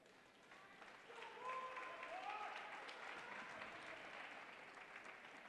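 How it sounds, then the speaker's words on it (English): Home crowd in a high school boys basketball gym applauds an injured player heading to the bench, a faint, distant swell of clapping that rises after a second and holds steady with murmuring. "get a round of applause from the home crowd"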